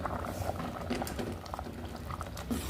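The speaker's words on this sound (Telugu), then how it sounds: "వేగిన తాలింపులో పప్పు పోసి వెంటనే మూత పెట్టేసేయండి." Dal poured into hot tempering and covered with a lid bubbles and sizzles in a steady, close wash of frothy crackle with small scattered pops.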